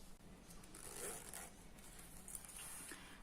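A zipper slider is drawn along the zipper of a handmade fabric bag, a faint, close, raspy zipping that runs in a few short strokes.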